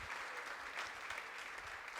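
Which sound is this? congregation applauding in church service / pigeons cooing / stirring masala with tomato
congregation applauding in church service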